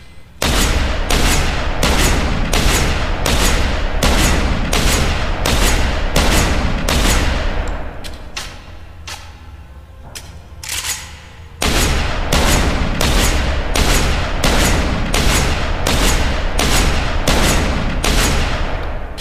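Shotgun fired again and again at a door in Deus Ex: Human Revolution, loud close blasts in a fast steady rhythm, a few seconds' pause with quieter handling noise, then the rapid shots resume.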